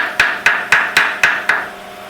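Six sharp, evenly spaced hammer taps on a car frame while bagging the front of a Mazda, each strike ringing briefly and close up with nothing else heard.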